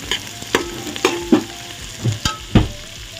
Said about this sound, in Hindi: प्याज और हरी मिर्च, कड़ी पत्ता ऐड करेंगे। थोड़ी मिक्स करेंगे इसी मसाले में।